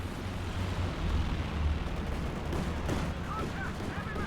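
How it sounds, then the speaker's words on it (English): Stuka cannon air strike in the Company of Heroes 2 strategy game, a dense, continuous rumble of gunfire and explosions heard up close and loud throughout, with no pauses. "Now the Luftwaffe strikes. The Stuka Kanonenvögeln are unleashed upon Jimmy."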